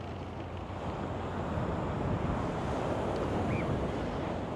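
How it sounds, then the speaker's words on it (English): Ocean surf and an onshore breeze on an overcast beach in Fortaleza, Brazil, form a soft, steady wash of waves with wind rumble, fairly faint and unbroken, with no voices. "There's a wonderful breeze blowing in off the ocean right now"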